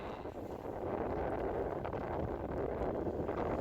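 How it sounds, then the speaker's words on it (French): Steady outdoor wind roaring and buffeting over open water in the English Channel during a solo sailing crossing, a constant broad rush with no voices. "vent monte un petit peu avec, donc ça c'est plutôt une bonne chose"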